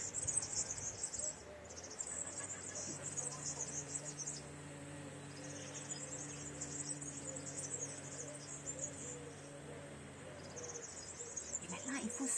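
During a children's yoga breathing exercise, a voice imitates a buzzing fly with a sustained vibrating hum of several seconds. A constant high, insect-like chirring runs beneath it.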